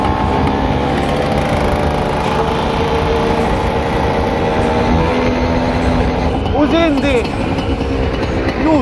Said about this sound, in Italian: sta al minimo preciso anche sotto coppia.